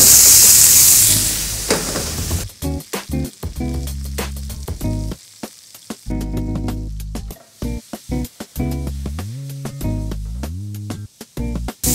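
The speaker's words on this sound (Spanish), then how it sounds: "vamos a saltear el tomate con la albahaca" Cherry tomatoes start in hot oil in a pan with a loud burst of hissing sizzle that fades after a couple of seconds into softer crackling, overlaid by tonal, stepping musical notes for the rest of the stretch.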